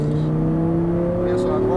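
An Audi R8 V10 accelerates on a racetrack, its engine giving a loud, steady drone that climbs slowly in pitch, heard from inside the car.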